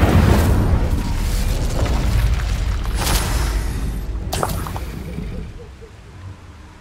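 The Incendio fire spell cast in Hogwarts Legacy, a loud deep whooshing burst of flame that rumbles for several seconds with a couple of sharp crackling bursts, then fades.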